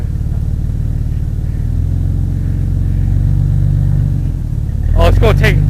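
A 1995 Chevy S10 pickup rumbles steadily at close range as it drives onto a microwave. Near the end, a brief burst of crunching and scraping rises over the engine drone.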